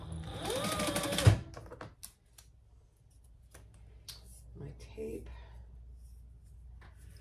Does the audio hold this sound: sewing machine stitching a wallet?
yes